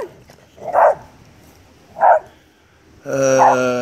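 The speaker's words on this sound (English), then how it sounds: "another barking dog." Dog barking in a backyard, two single distant barks spaced apart, then a louder sustained yelp or howl at the end; a man counts aloud in the background.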